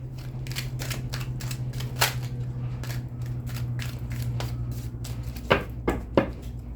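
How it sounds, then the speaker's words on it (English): Tarot cards are shuffled by hand in a run of quick, crisp riffling snaps and flicks over a quiet, steady hum, with a few sharper slaps near the end. "I'm gonna give that one more shuffle."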